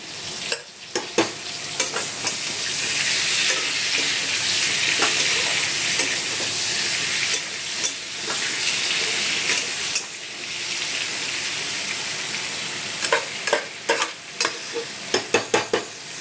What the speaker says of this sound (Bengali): জলটা ফেলে নিয়ে এবার ভালো করে নাড়ছি।